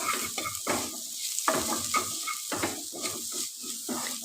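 Spiced potato filling for stuffed green chillies being stirred and mixed in a pan, with repeated scraping strokes and a soft sizzle close by, no talking.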